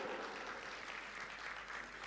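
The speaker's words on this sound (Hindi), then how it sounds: "लता जी के लिए एक बार जोरदार ताली हो जाए एवरीवन" Audience applause for Lata Mangeshkar's arrival on a comedy stage, a steady, dense wash of clapping that holds evenly throughout with no voices over it.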